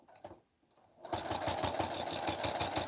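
A sewing machine straight-stitches down a romper seam, whirring up after a quiet pause into a fast, even mechanical chatter of rapid needle strokes that runs steadily to the end, close and alone.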